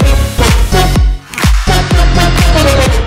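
EDM track: loud, dense electronic music with punchy pulsing bass hits and bright synth chords driving a steady energetic rhythm.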